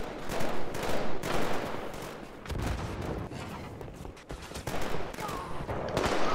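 Rapid bursts of beam rifle fire in a Halo-style capture-the-flag match on a high-ground map, loud and dense, with repeated shots and explosive crackle across the whole stretch and a voice faintly underneath.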